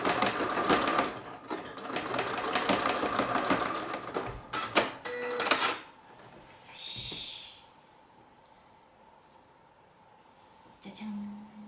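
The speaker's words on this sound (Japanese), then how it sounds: "今回は縫い代5ミリで縫ってます" A sewing machine stitching small fabric scraps with a 5 mm seam allowance, running in a fast, close mechanical whir for several seconds with brief stops, then a clack, a faint rustle and a short final burst.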